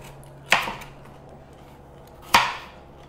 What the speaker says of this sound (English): We can julienne the carrots.